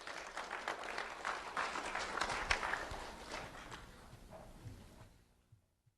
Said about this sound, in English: Let's have a round of applause for Ethan Horn.